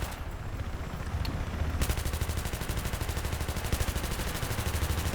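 Rapid automatic gunfire in the video game Battlefield 3, a fast steady rattle of shots that starts after a brief quieter stretch and continues loudly to the end.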